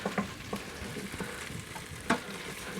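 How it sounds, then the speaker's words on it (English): Peppers and onions frying and caramelizing in a pan, with a utensil scraping and stirring across the pan bottom in a few distinct strokes over a steady close sizzle; no talking. "So I'm just scraping the bottom"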